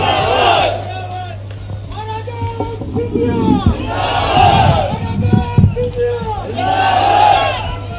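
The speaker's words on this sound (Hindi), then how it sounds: "कृपया जोरदार ताली बजा के श्रीमंत महाराज साहब का स्वागत करें" Crowd at an outdoor political rally in Badarwas, Madhya Pradesh, cheering and shouting together in loud surging waves, with a steady hum underneath and voices rising through the noise.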